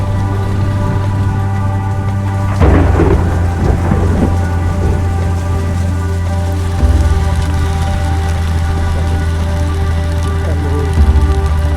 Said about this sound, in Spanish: Esta vez, la lluvia cae con fuerza.